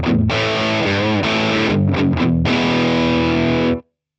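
Electric guitar played through a YERASOV 5000 Volt mini distortion pedal with the gain turned up, a dense, saturated tone of chords and bends, loud and continuous for nearly four seconds before cutting off cleanly.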